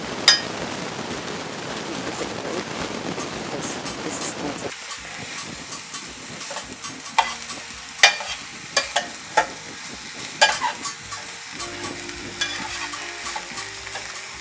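Rice and onions sauté in a pan while a spoon scrapes and stirs, a constant frying sizzle under repeated sharp scraping knocks that grow more frequent after the first few seconds; a voice speaks over part of it.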